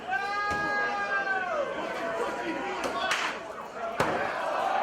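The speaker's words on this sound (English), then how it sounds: "Slamming him face first into those tubes." During a wrestling match, a wrestler is slammed face first into tubes, giving a few sharp crashing impacts over constant crowd noise and sustained chanting tones.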